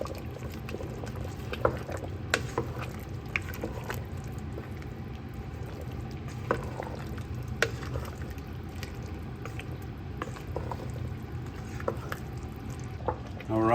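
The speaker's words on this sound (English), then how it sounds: "And we're gonna give this a stir." Onions and celery are stirred in a pot for beef stew, giving soft scraping and scattered small clicks of a spoon over a low, steady background murmur throughout.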